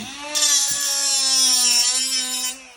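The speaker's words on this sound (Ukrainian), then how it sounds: "Берете болгарку." An angle grinder cuts into a magnetic wire spiral that had been taken for nichrome, giving one sustained bright, high grinding whine over a steady motor hum, loud and close, for about two seconds before it stops.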